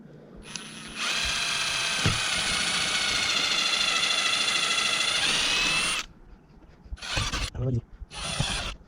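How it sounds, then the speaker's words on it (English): A power drill drilling holes in an RV roof for a skylight replacement whines steadily for several seconds, then stops; two shorter bursts of drilling follow after a pause. "now I'm drilling the new holes because this one's a little bit longer"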